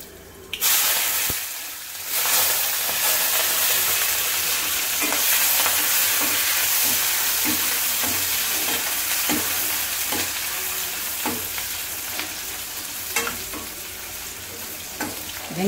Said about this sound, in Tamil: கருவேப்பிலை போட்டுட்டு கடுகு வெந்தயம், 2 மிளகாய் வத்தலும் தாளிக்கையில் போட்டுக்கோங்க.